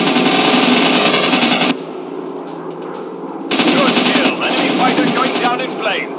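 Loud, rapid machine gun fire in a WW2 warplane dogfight video game comes in two long sustained bursts separated by a quieter gap of engine drone.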